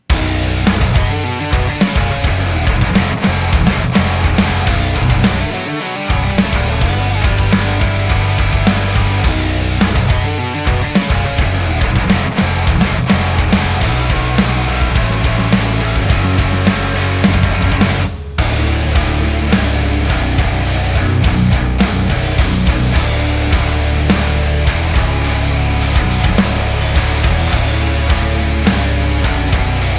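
Dense, distorted electric guitar riffing through an amp simulator plugin runs continuously at a steady loud level, with a brief pause near the middle before the playing resumes.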